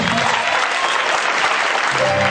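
A church congregation at an offering service bursts into steady, dense applause that fills the room from start to finish, loud and close, with a faint voice under the clapping.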